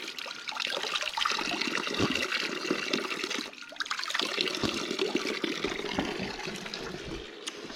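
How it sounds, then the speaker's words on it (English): Mountain spring water pours steadily beside a Bulgarian monastery, a continuous close splashing rush with a brief dip midway and no talking. "springs with the mountain water"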